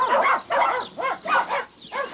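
Several dogs bark at an animal rescue ranch home to cats and dogs, four loud close barking bursts in a steady rhythm with no talk.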